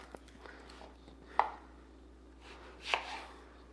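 Knife slicing raw onions thinly on a cutting board, with two distinct chopping strikes standing out above a quiet background and a few fainter soft cuts between them.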